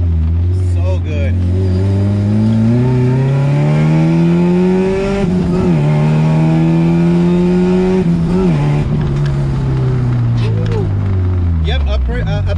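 A gutted 1993 Honda Civic Si accelerating hard from inside the cabin, its loud engine note climbing through the revs, dropping at two gear shifts, then climbing again, with voices in the car.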